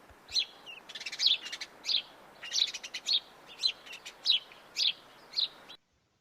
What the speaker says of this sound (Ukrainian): Ой, послухайте, як вони голосно чирікають.